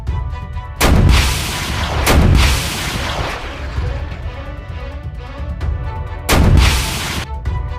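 Three heavy explosive blasts from a game weapon, each a loud booming hit that rumbles off, spaced unevenly with ringing tones between.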